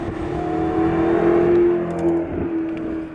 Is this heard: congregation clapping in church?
no